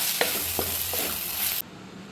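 Masala with turmeric and pepper powder sautéed in a pan: a continuous sizzle with a few soft stirring scrapes, which cuts off abruptly near the end.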